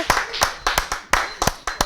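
Applause offered for a father during a religious testimony program, heard as a handful of distinct, close claps in a loose, uneven rhythm, about nine sharp strikes.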